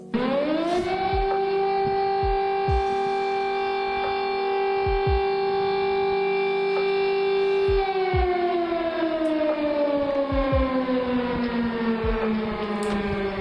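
A loud French public alert system civil defense siren wails steadily, its harmonic tone holding level then sliding downward, with low thumping noises in the background.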